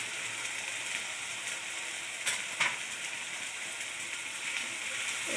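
Spices and chopped onion with salt, chilli powder, turmeric and sugar sizzling in hot oil for Bengali mutton kosha, a steady dense crackling fry, close and continuous with a couple of faint clinks.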